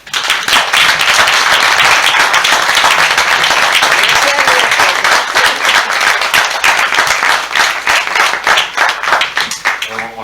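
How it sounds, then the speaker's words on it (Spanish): A conference audience applauds after a talk on women of the género chico zarzuela, with dense, sustained clapping that stays loud and steady throughout and fades only at the very end. "os pido un cariñoso aplauso"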